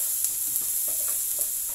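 Beef steak frying in a pan with a little butter and mushrooms, a steady soft sizzle with faint stirring clicks, close and continuous, no voices.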